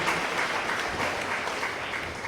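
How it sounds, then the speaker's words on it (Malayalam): A church congregation claps together in dense, steady applause, sustained and even throughout the short stretch, with no talking over it. "കൈയടിച്ച് കർത്താവിന് നന്ദി പറയാം"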